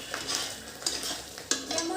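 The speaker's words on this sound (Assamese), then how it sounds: "এয়া এতিয়া গোটেইখিনি অলপ ভালদৰে ভাজি ল'ম যাতে কেঁচা গোন্ধটো গুচি যায়" A spoon stirs masala and paneer frying in a pan, with soft scraping strokes and a few sharper clinks against the metal over a faint, steady sizzle, close up and without talk.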